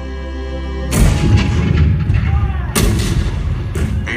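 Heavy cannon blasts boom out in an animatronic stage show depicting Fort Sumter, one at the start and another a couple of seconds later, each followed by a long rumbling roar and crackle.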